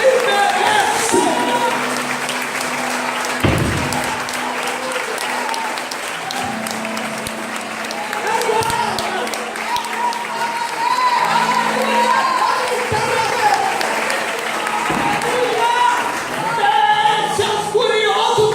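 A church congregation applauds at a worship service, sustained loud clapping from a large crowd with scattered cheers that carries on for the whole stretch.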